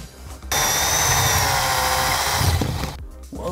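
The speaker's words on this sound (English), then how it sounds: "it's time to drill the first hole in the wall" A power drill bores the first hole into an office wall, a loud continuous whirring grind that starts abruptly and runs steadily for about two and a half seconds before cutting off, close and alone.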